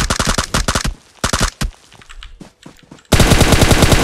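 Automatic gunfire from the mobile battle-royale game PUBG Mobile: loud rapid bursts of shots with short gaps, scattered quieter single shots, then a dense sustained volley at the end.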